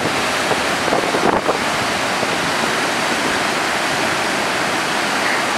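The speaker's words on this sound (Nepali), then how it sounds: "कस्तो बतास चलेको" Strong wind gusting hard into the microphone outdoors near the Santaneshwor temple in Kathmandu, a loud, continuous roaring rush that stays steady throughout, with no talking.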